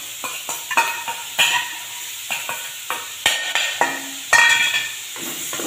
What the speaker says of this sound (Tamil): நல்லா ஒரு வதக்கு வரணும்